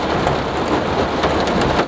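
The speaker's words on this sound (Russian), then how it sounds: "Вот дождь лупанул, а." Heavy rain hammers a car during a drive on the road between Smolensk and the Russia–Belarus border, a dense, loud, continuous roar of drops on the body and glass with a low rumble beneath.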